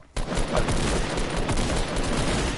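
Gunfire in Fortnite, a shotgun among it, erupts as a dense, loud burst of rapid shots that keeps going, close by and with no voices over it.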